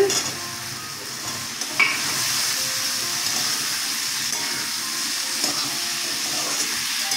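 Potatoes and ridge gourd frying in mustard paste, a loud continuous sizzle and hiss with occasional stirring knocks, with no talk over it.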